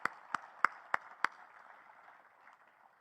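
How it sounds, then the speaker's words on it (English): Audience applause at a military change of command ceremony, starting with five loud, evenly spaced claps close by, then fading into a soft, distant patter of clapping. "a round of applause for Charlie and Kathleen"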